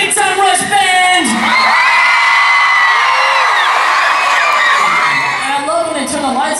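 A large concert crowd at a summer tour show cheers, whoops and screams loudly and continuously, high-pitched young voices dominating a sustained roar of noise.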